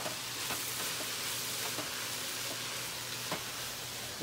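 Spinach frying in a pan along with pasta gives a steady, close sizzle that holds evenly throughout, with a few faint stirring clicks and no talking.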